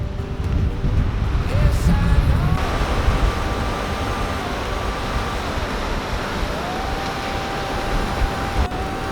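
Ocean waves washing in at high tide on the Oregon coast, a steady broadband roar of surf with gusty wind noise on the microphone, continuous and fairly loud throughout.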